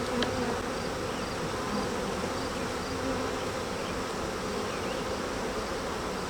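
Honeybees swarm over frames of an open hive during a Varroa mite count, a steady, dense buzzing hum that fills the whole clip at close range with no talk.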